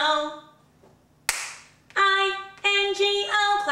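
During a children's song about Bingo, a single sharp hand clap cracks between sung phrases, brief and crisp against the bright, melodic singing voices.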